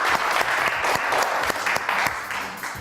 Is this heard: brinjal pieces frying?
no